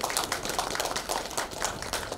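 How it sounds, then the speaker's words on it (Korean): Audience at an indoor party meeting on the Kaesong Industrial Complex applauding, dense continuous clapping at steady volume, no talk. "큰 박수로 환영해주시기 바랍니다"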